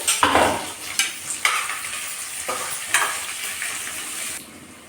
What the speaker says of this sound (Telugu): నెక్స్ట్ ఉల్లిపాయలు ఇక 1 by 1 వేసేసుకుంటున్నాం.